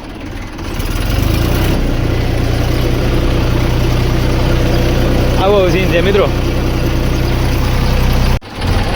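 A tractor engine idles with a steady low drone in rain, a constant loud rumble that keeps going while someone talks over it.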